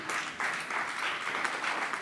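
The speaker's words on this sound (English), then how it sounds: "A round of applause for Efiko, please." Audience applause at a startup pitch event, continuous dense clapping from a room of people, steady and moderately loud for the whole stretch with no talking.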